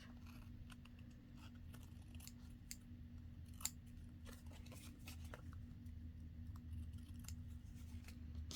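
Scissors trimming paper in a papercraft project, a series of soft crisp snips spread through the clip over a steady low background hum, close by with no talk.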